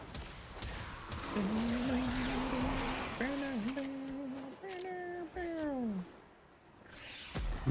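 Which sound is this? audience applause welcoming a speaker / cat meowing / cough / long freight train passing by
cat meowing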